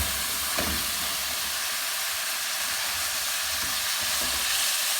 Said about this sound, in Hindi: ये देखें हमारा जो है ना चिकन हमें जितना चाहिए था उतना ये फ्राई हो चुका है